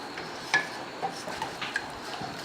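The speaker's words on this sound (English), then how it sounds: "Let's mix." Spoon clinking lightly against a bowl while stirring a sauce of rice vinegar, salt and pepper, a few soft scattered taps close by over quiet background hiss.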